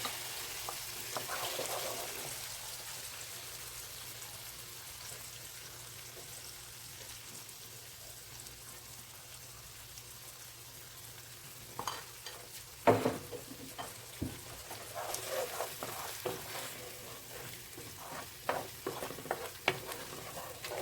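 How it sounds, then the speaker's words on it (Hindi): Beaten eggs hit a pan of garlic and marinated shrimp. A low, steady sizzle carries on under scraping and stirring clatter that grows busier in the second half. No one speaks. "अब मैं इसमें ये 2 बीट किए हुए अंडे"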